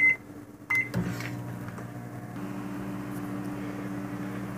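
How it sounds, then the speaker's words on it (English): A microwave oven runs with a steady low hum and faint mechanical drone throughout, preceded by a couple of brief clicks and thumps at the start. "Pop this in the microwave."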